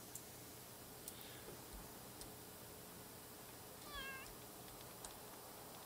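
Cats meow in The Sims 3 game, a single short meow heard faintly over a steady quiet background with occasional soft ticks.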